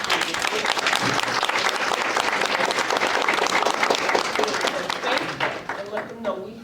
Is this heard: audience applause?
yes